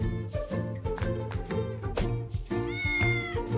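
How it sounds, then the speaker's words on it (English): Cat-like meowing, repeated several times over a steady musical backing, stands in for the call of an owl in a children's English story. "Each night, the owl makes the sound meow."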